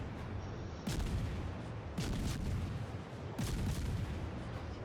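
Warship guns firing salvos in the World of Warships naval video game, three heavy booming blasts spaced about a second and a half apart over a constant rumbling background.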